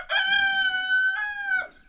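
A rooster kept with chickens in a backyard coop area gives one clear, close crow lasting under two seconds, rising and then holding steady before trailing off.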